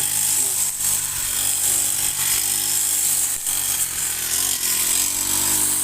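Villagers cutting grass in a Lao or Thai field with a power tool, a continuous loud buzzing engine whine running steadily throughout, close by and unbroken.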